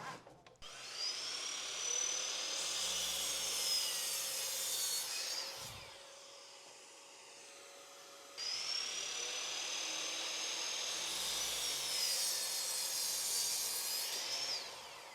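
Power tool cutting a 30-degree bevel along the edge of a scrap wood piece, a high whining grind in two long passes separated by a short quieter gap.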